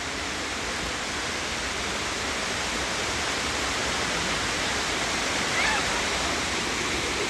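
Kawayan Falls on Mt. Cabanbanan in Sorsogon roars as a dense, unbroken wash of falling water, loud and close throughout, with no break or change in level.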